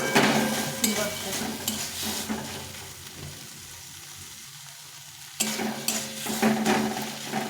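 Flat beans frying in a pan for sim bhorta sizzle and crackle up close as they are stirred, quieting briefly midway before the frying noise surges back.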